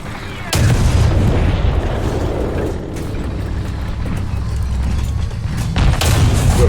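Tank cannon fire and explosions from a World War II tank game featuring the Maus heavy tank, with heavy low booms and a rumbling engine-like drone running throughout, with sharp blasts near the start and end.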